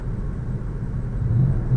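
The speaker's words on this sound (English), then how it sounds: "My truck does this thing when it's just sitting idling." A pickup truck engine idles with a steady low rumble, close and continuous, holding an even drone with a slight swell toward the end and no voices.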